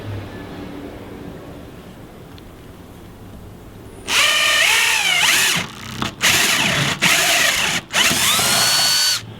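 A power drill fitted with a 5/8 inch spade bit bores a hole for a fish finder install, starting abruptly after a quiet stretch and whining loudly and close in several long runs broken by brief stops.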